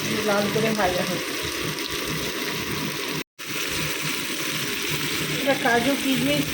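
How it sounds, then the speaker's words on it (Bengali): Potatoes and onions sizzle steadily in hot oil as they brown, a loud continuous crackle with occasional stirring; brief vocal sounds surface near the start and end, and the sound cuts out briefly midway. "লাল করে ভাজা হচ্ছে।"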